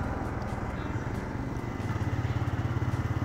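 A TVS Raider 125cc motorcycle on a long highway ride gives a steady, pulsing engine drone with loud wind rumble that grows more rhythmic toward the end.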